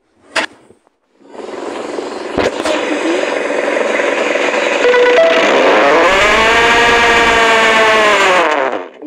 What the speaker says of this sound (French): Donc c'est parti, on va écouter le moteur.